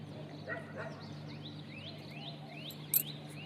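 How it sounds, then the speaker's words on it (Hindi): Small birds chirp in quick, repeated upward notes at a moderate distance in a village in the early morning, over a faint steady background hum. "चिड़िया की, पक्षियों की आवाज़।"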